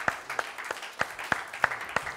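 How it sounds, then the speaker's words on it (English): Church congregation claps in a steady rhythm during Sunday worship, with roughly eight sharp, evenly spaced hand claps, close and fairly loud. "Let's give the Lord a hand clap."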